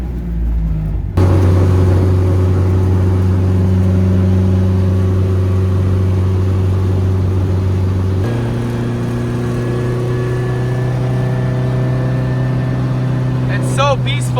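A car engine freshly back on the road after a camshaft repair hums loud and steady from inside the cabin, then steps up in pitch as it accelerates partway through, with a brief chirp near the end.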